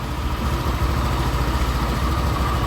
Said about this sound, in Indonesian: kita hidupkan mesinnya